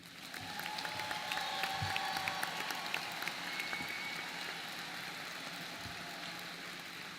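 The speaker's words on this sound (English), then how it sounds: "please join me in a round of applause for these newly minted SPIA graduates." An audience at a university convocation ceremony applauds its new graduates with steady, moderately distant clapping that holds throughout, while a low engine-like hum runs underneath.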